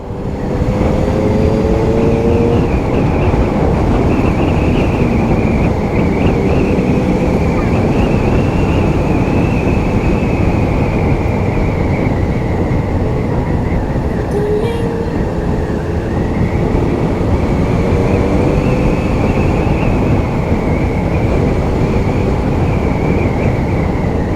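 A 600cc inline-four sport motorcycle cruises at steady speed, its engine a continuous droning hum smothered by heavy wind rush against the microphone, with a slight rise and dip in pitch partway through.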